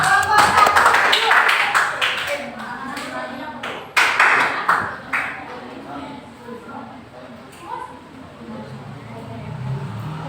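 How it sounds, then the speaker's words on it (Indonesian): A class of secondary school students applauds a presenting group, a loud burst of clapping that fades, then a second brief round, with voices chattering underneath and the room settling afterward. "berikan aplaus ya untuk yang maju presentasi kelompok 2"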